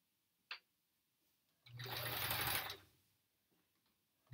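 A vintage sewing machine runs in one short burst of about a second, a close whirring hum that starts and stops abruptly, preceded by a brief click in an otherwise quiet room.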